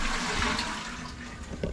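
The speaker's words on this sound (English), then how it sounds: "I have a button which flushes the toilet." A toilet flushing in a budget hotel bathroom, a short, loud, close rush of water with no talking.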